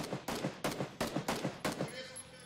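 Rapid bursts of gunfire in the battle royale game PUBG during a pro esports match, six sharp shots in quick succession, loud and close, followed by a fading tail.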